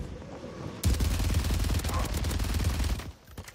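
Rapid automatic gunfire in Warzone 3 erupts suddenly and rattles loud and dense for about two seconds before cutting back to quieter background.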